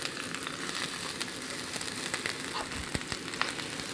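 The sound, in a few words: sliced yellow onions frying in hot oil in cast iron skillet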